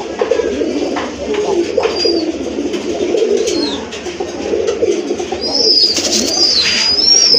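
Rajgolla pigeons with pitcher-shaped necks coo in soft repeated low calls close by, with brief higher chirps layered over a steady background.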